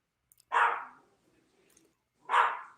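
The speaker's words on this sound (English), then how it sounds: "there's a dog barking in Summer's area" A dog barks twice, each a short sharp bark with a quiet gap of more than a second between them, moderately distant and faint in an otherwise quiet room.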